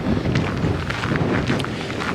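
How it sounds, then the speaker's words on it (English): Gusty, cold wind buffeting the microphone outdoors among rocks at Smith Rock near Bend, Oregon, a rough low rumble with scattered crackles and thuds, fairly loud and continuous. "And today it's cold and windy."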